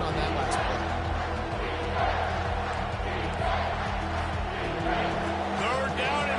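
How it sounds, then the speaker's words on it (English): A stadium crowd roars at a football game, a loud, steady wash of cheering that fills the whole stretch while a commentator talks over it. "this crowd is tearing the lid off this place"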